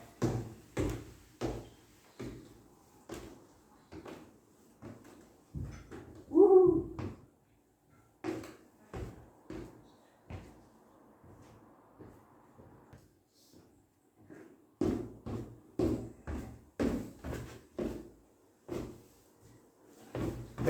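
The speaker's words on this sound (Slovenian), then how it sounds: "Spremo še vrata v" An attic door is opened in a house, with a series of sharp wooden knocks and clunks in irregular bursts, a creak in the middle and a quieter pause before more thumps.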